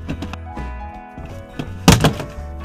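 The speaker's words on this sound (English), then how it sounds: "But you just need to pry it off using the screwdriver." On a 1993–99 Toyota Celica, a taped flathead screwdriver pries off a rear interior trim panel. A few dull knocks come first, then a sharp plastic crack and thunk as the clips let go.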